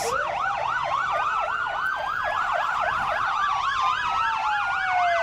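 Fire truck sirens wail loudly in an outdoor street parade, several overlapping sirens from the Montrose Township Fire Department sweeping up and down in steady rapid cycles throughout, close and continuous.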